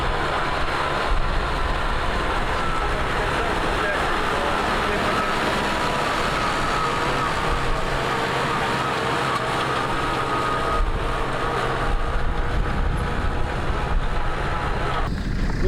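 A 110-horsepower ArmaTrac 1104 tractor drags a Taurus 3.4 disc harrow uphill under heavy load in a field, its engine a steady, loud, droning rumble that continues throughout with a constant mechanical rattle.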